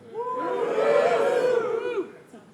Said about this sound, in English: let's get a big cheer if you think it's lower than 18